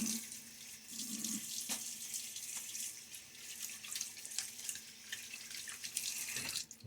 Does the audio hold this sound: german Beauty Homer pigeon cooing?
no